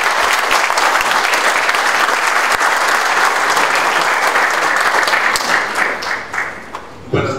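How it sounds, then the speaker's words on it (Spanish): An audience at an evening talk breaks into loud, sustained applause for a speaker. The thick, steady clapping fills the room for about seven seconds before thinning out as a voice begins. "pido un aplauso para Andrés Páez"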